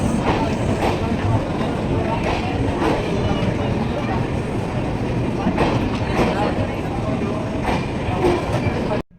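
A passenger train runs on the rails overnight, heard from inside the carriage as a loud, continuous rumble with faint rhythmic clatter from the wheels, steady throughout until it cuts off at the end.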